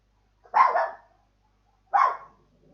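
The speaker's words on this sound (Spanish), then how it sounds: "Ladraba mi perro." A dog barks twice, two sharp, fairly close barks separated by about a second of quiet, with no voices around them.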